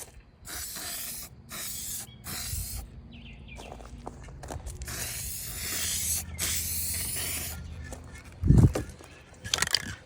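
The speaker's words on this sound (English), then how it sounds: "we'll shoot with some spray paint" Short hissing bursts of a hammered-finish spray paint can, then longer sustained sprays, with a few thuds and clicks between them.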